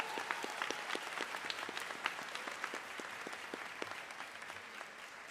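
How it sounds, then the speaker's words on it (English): A graduation audience at a high school ceremony applauds teachers and staff, a dense steady wash of many hands clapping at moderate distance, sustained evenly through the whole stretch. "Let's give them a big round of applause as well."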